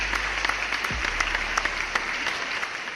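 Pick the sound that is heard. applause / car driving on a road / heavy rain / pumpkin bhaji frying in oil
applause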